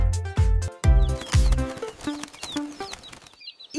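Chicken-like birds cluck in quick, loud bursts close by, a rapid run of sharp calls over a few seconds with music in the background.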